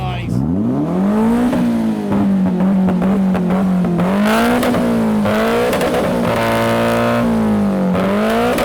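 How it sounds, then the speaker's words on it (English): A Lamborghini Murcielago V12 revs repeatedly, its loud harmonic engine note climbing and falling in several sustained sweeps close by, with a crackling rasp layered over the tone. "Oh, who's even revving that car?"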